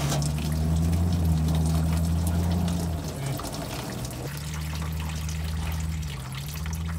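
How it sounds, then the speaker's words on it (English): Coolant gushes from a tuned 3.5L EcoBoost Ford F-150 into a drain bucket during a thermostat upgrade: a steady, close pouring and splashing that runs throughout over a low, constant hum. "this is where it's gonna start just dumping the coolant"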